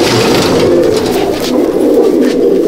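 Breeder pigeons in a loft coo steadily and loudly up close, their low, overlapping calls forming a dense, continuous murmur with no voices.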